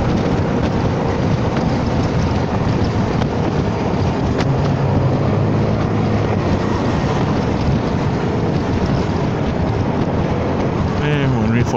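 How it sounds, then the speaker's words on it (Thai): Rain falls during a ride on a Forza 300 motorcycle, a steady broadband wash mixed with loud wind rush and engine drone, with voice-like sounds faintly present underneath. "เอ๊ะเหมือนมีฝนปล่อยๆนะ"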